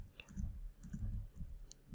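Keyboard typing into a Linux terminal on an Ubuntu system, played a little awkwardly, heard as a close, irregular run of soft clicks and taps with no talking.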